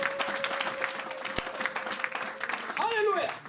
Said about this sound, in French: Est-ce qu'on peut donner une acclamation pour nous?